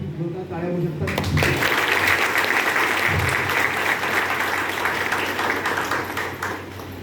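Sustained applause from an audience at a grand celebration for silver producers, breaking out after a brief voice and continuing dense and loud for several seconds before easing slightly.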